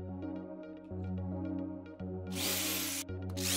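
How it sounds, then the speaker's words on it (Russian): A power drill bores a hole in a wooden block, first a steady motor whine, then a loud harsh grinding burst as the bit cuts in, pausing briefly and starting again, close and with no talk. "Делаем отверстие."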